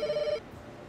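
A video game telephone rings in a short electronic trill that cuts off abruptly, leaving quiet background ambience.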